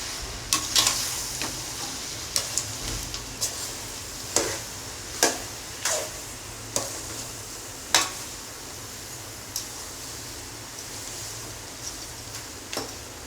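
A spoon stirs pulihora, a tamarind rice mixture, in a pan, making about fifteen sharp taps and scrapes at an irregular pace over a faint, steady hiss.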